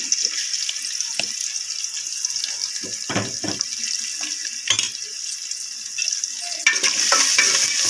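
Chicken curry with onion and turmeric frying in a pan, a continuous bright sizzle with intermittent scraping stirs and a few louder clanks, rising slightly toward the end.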